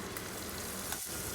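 Mustard seeds and cumin fry in hot oil in a kadhai alongside raw fish, making a loud, continuous close sizzle with faint crackles and a brief stir, with no voices.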